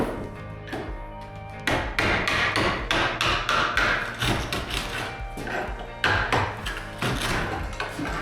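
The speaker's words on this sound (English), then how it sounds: "the hammering is dangerous" Repeated hammer blows during floorboard work in a kitchen renovation, a steady series of loud, close sharp knocks with brief pauses, the first stretch lighter before heavier strikes continue.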